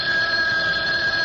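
A telephone rings loud and steady, a continuous electronic bell tone that fills the whole short moment without any talk over it.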